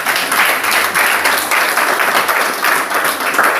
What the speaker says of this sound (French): Applaudissons pour elle, elle a bien compris.